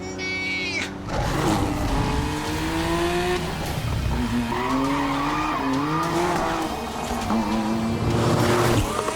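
A turbocharged Ferrari-based supercar is driven hard, loud and close, its engine surging and falling through rising gear pulls with tire squeal and skidding mixed in, continuous and without talk.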